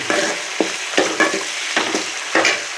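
Tomatoes with salt fry in a pan while being stirred, giving a soft steady sizzle broken by repeated scraping strokes of the spoon, close and fairly loud.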